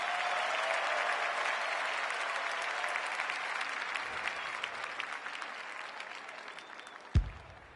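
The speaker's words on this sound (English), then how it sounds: "The crowd noise tells you all you need to know." A stadium crowd at an Australian rules football match cheers and applauds loudly and continuously, slowly fading, with a sharp thump near the end.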